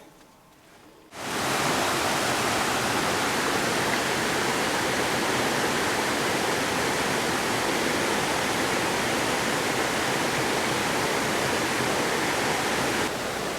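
A creek on the Alaskan coast rushes in a loud, steady roar of water heard close by, starting abruptly after a second of near quiet and continuing unbroken.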